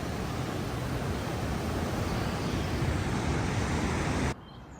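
Rapids of the Niagara River near Goat Island, a steady, loud broadband rush of churning water that cuts off abruptly near the end.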